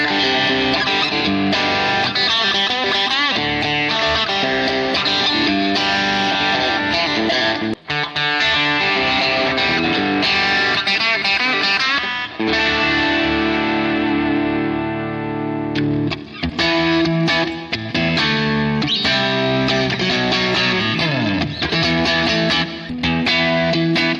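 A PRS SE Custom 22 semi-hollow electric guitar plays through its bridge pickup with crunchy overdrive, giving loud, continuous distorted chords and riffs with only brief pauses and no talking.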